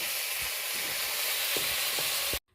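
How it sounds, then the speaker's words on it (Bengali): Fish heads of medha tangra fish frying in a wok, a loud, steady crackling sizzle with a few sharp scrape or stir ticks, ending abruptly, no voices. "এবার মাথাটা ভেজে নেব, অল্প অল্প করে ভাজবো।"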